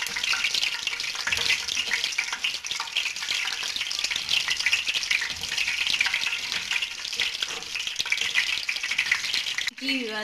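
Whole spices such as cardamom and cinnamon sizzle with curry leaves in hot oil, a steady close crackling fry that runs loud and unbroken throughout, with a brief knock near the end.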